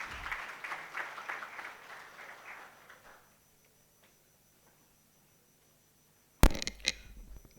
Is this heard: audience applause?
yes